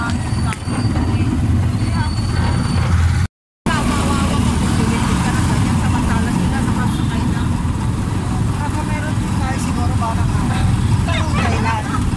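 Steady street traffic in Marikina rumbles nearby with passing engines and a motorcycle, and a voice talks over the noise; a brief dropout cuts the sound early on.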